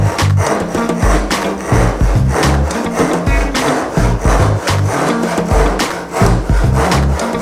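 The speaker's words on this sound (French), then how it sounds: "on peut tenir notre scie japonaise avec les deux mains et tout simplement descendre" Quick, rhythmic rasping strokes of a Japanese saw's large teeth cutting through wood, held with both hands, close and fairly loud, with the strokes coming fast and evenly for several seconds and no talking.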